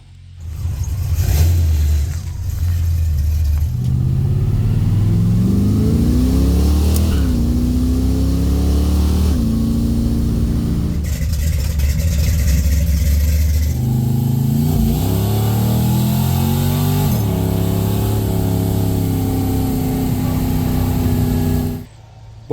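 A Chevy II Nova and a Ford Mustang foxbody are driven together, their engines loud and close, rising and falling through repeated revs and gear changes for about twenty seconds without talk.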